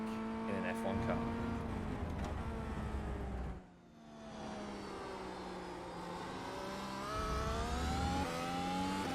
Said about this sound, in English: get the big boy out and see what Jerez is truly like in an F1 car